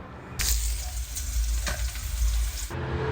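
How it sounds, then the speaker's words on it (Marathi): Steady loud sizzling of a batch of okra frying in hot oil in a kadai, a continuous crackling hiss with a few brief stirring bursts. "दुसरी बॅच मी टाकली आहे कढईमध्ये आता ती पण छान फ्राय करून घेते"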